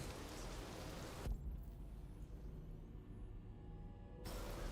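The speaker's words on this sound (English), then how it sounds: "now I can hear the loud ass fucking rain" Steady rain in the video game Detroit: Become Human hisses loudly, dropping to a muffled quieter wash for a few seconds before the full downpour returns.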